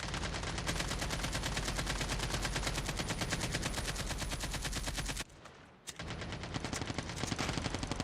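Automated turrets in COD Mobile's Undead Siege mode pour out dense, continuous rapid gunfire at zombies, loud and unbroken apart from a brief lull before the shooting resumes.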